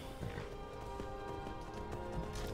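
Horse galloping in Skyrim, rapid rhythmic hoofbeats repeating steadily, fairly faint under game ambience with no talk.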